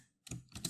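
Keys tapped on a computer keyboard while entering code into the Python shell, two quick, faint clusters of clicky strokes separated by a brief silence, heard close and alone.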